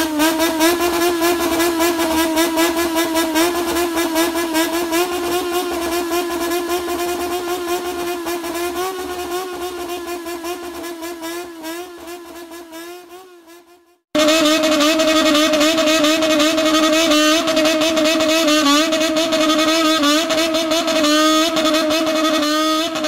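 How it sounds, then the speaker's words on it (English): Bosozoku motorcycles rev their engines in rhythmic, musical throttle calls, loud and close, with rising and falling buzzing tones. The sound fades out, stops briefly, then resumes just as loud. "The modern Bozozoku bikers make musical calls with their throttle."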